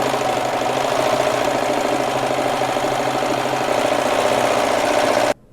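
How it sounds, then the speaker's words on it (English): A serger overlocks the outer edges of four hidden pocket pieces for a shirred dress, a steady, dense mechanical whir that runs unbroken for several seconds before stopping abruptly. "we're going to serge around the outer edge of the entire hidden pocket, except for the armhole opening"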